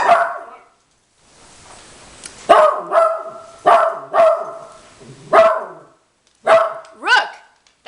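Rookie, an old dog, barks loudly and close by, around seven gruff barks in irregular pairs and singles with short pauses between.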